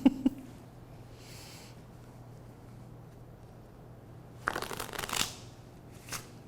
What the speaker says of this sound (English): I'll give them a shuffle first.